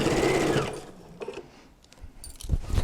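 A sewing machine sews a diagonal stitch on a notebook holder with a short, loud whirring burst, then softer mechanical clicks and taps.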